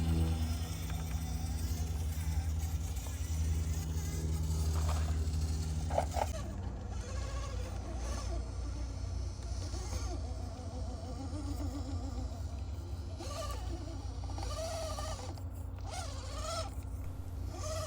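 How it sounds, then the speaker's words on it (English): An upgraded Axial SCX24 RC crawler on Little Guy Racing gripper tires climbing a rock line: a thin electric motor whine that rises and falls, with small creaks and scrapes as it crawls, close and steady. "the SCX24 is able to just rock this line right off the get-go"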